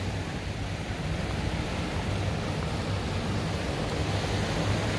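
Waves washing onto the sand at Patong Beach, a continuous broad rushing wash with low rumble and some wind, steady and moderately loud with no voices.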